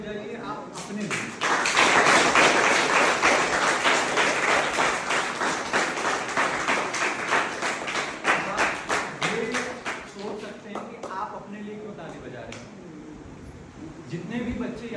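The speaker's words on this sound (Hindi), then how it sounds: "और जोरदार ताली बजाइए आप अपने लिए।" Audience applause at a parenting talk in a hall, loud, dense clapping swelling quickly and holding steady for several seconds before thinning into scattered claps, with some talk underneath.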